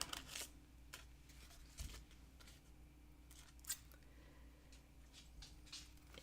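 Scissors snip through paper, cut out from a magazine for a collage, in a few faint, scattered crisp cuts and rustles against a quiet room hum, with no one talking.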